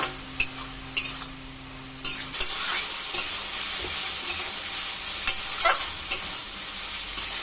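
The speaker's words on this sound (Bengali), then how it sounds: "তা একদম হাইতে করেই ভাজা ভাজা করতে হবে" Water lily stems stir-fried over a high flame give a steady, close sizzle. A spatula scrapes and knocks against the pan in irregular strokes, and no one speaks.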